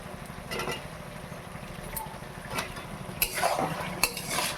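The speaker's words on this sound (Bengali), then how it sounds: "এবার কাঁচা আলুগুলো আমি দিয়ে দেবো।" Raw potatoes tumble into a pot of mutton and get stirred, with a metal spoon scraping and clattering against the pot in irregular bursts over a low background rumble, getting busier toward the end.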